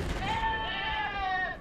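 A goat's scream, a single drawn-out, wavering bleat played back loud and close, ending abruptly after about a second and a half.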